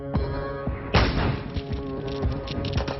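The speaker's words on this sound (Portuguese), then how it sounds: "Explosões." Explosions during an armed attack on a cash-transport company: two heavy broadband blasts, the second louder, followed by rumbling debris and crackling over a sustained tonal background.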